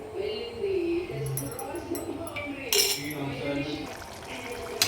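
A spoon stirs paneer curry in a pan, giving soft scraping and clinking against the metal with wet, squelching movement. Someone talks over the stirring.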